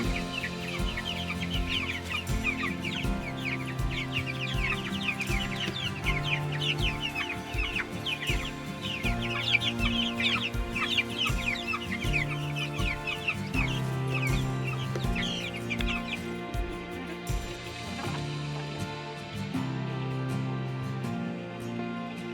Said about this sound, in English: Some of these chickens are egg layers. Most of them are meat birds.